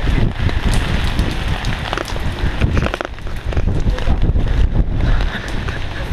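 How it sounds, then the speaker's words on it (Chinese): Strong typhoon wind sweeps outdoors near Tokyo Bay, a loud, continuous broadband roar that buffets the microphone in rough gusts for the whole stretch. "风很大"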